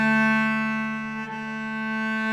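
A cello sounds sustained open strings in a string-crossing exercise, a loud continuous bowed tone alone with a brief change midway.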